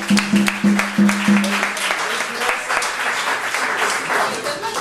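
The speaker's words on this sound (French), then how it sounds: "On applaudit nos nominés." An audience at a triathlon club awards night applauds the nominees, with sustained clapping and some cheering, plus a few sharp low tonal bursts near the start and voices mixed in.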